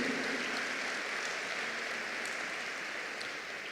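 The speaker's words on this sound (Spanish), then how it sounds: "Fuerte aplauso para nuestro Señor Jesucristo" A crowd at a religious retreat applauding, a dense, steady patter of clapping that fades slightly toward the end, with no talking.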